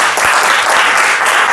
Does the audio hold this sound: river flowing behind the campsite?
no